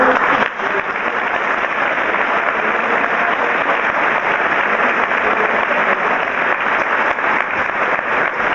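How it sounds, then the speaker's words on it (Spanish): Church congregation applause for the musicians during a parish Mass, a loud, dense and continuous roar of clapping filling the room without letup. "Así un aplauso para todos los músicos."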